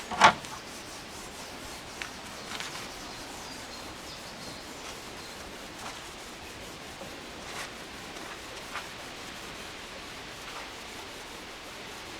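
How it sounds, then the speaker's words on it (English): Cleaned pipe organ parts from an 1865 Forster & Andrews organ being buffed with a brush: a faint, continuous scratchy rubbing, with a few soft knocks and scrapes scattered through. "we'll just buff them up with this brush"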